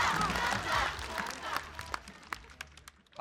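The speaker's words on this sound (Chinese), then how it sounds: "好，掌声，谢谢大家。" A stand-up comedy audience bursts into applause and cheering in a burst that quickly thins into scattered claps and fades away.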